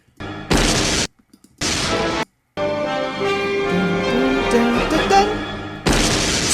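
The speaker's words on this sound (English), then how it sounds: "Explosion." Loud booming explosions burst out twice, then once more at the end, over swelling music with sustained tones in the Super Smash Bros. Melee intro.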